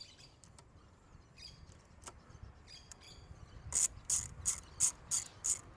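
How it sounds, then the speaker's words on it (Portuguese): A torque wrench ratchets while tightening a bolt on a Royal Enfield Continental GT 650 steering damper, giving a run of six sharp, evenly spaced clicks near the end after quieter handling noises. "Recoloco o parafuso, já aplico o torque."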